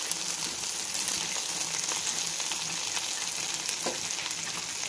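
Colorful vegetables sauté briefly in a hot pan for chicken manchurian, giving a dense, steady, loud sizzle with faint stirring touches throughout, close up and with no talking.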